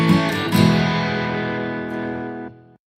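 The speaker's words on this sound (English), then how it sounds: "that sound is your halfway point reminder" A single bright, echoing chime marking the halfway point of a triathlon run, with a metallic, effected shimmer that rings and sustains for a couple of seconds before cutting off.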